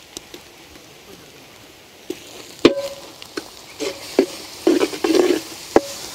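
Onions, ginger-garlic paste and green chillies sizzle in a pan at a village cooking session, with soft frying and sharp clinks of a spoon stirring against the pan.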